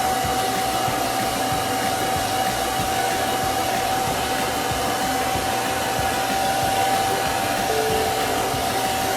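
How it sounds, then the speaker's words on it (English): Blow dryer on a cool setting drying chalk paste, a steady loud whooshing hum with a constant whine, running alone without pauses. "I'm drying with a cool blow dryer."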